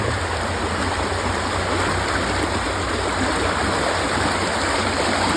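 Raging floodwater stream with white water rushing from a driveway and a neighbor's normally narrow creek, a continuous loud broadband roar close by with no pauses or voices.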